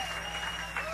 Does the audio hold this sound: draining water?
no